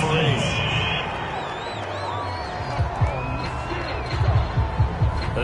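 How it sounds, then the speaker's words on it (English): A home crowd in a PS4 American football game cheers and roars after a penalty flag call. The crowd noise swells beneath steady commentary, with a few sharper bursts near the end. "This home crowd, they're happy with that call."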